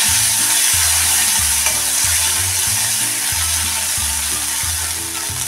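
Green chilli pieces and curry leaves sauté in a pan for kadhi, a loud continuous sizzle over a steady rhythmic background tune.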